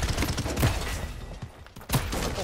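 Rapid gunfire from the battle royale video game Realm Royale comes in dense, crackling bursts with short gaps, sounding close and fairly loud.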